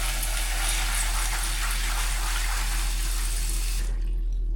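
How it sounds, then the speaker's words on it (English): Kitchen tap pours a steady, loud stream of water while rice and peas are washed for Jamaican oxtail, then shuts off abruptly near the end. "you gotta make sure you wash your rice, wash your peas"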